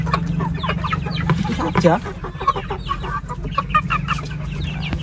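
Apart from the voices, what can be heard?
chickens clucking, rooster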